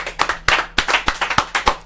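Rhythmic hand clapping from an audience applauding guests at a Yoruba live performance, sharp evenly spaced claps repeating about every quarter second with little else over them.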